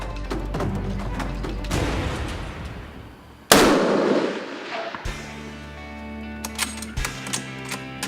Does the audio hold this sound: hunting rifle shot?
yes